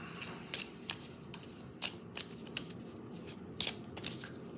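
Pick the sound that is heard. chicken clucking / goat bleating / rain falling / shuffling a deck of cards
shuffling a deck of cards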